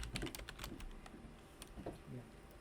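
Computer keyboard typing in a quiet room, quick irregular clicks of keys, soft and close, with a short pause midway before a few more taps.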